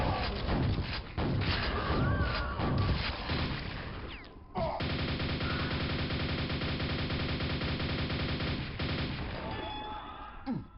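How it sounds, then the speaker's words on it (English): Gunfire in Quake played on PC, a steady rattling barrage of rapid, loud shots running almost the whole time with only a brief break near the middle, alone with no talk. "who the heck is shooting at me?"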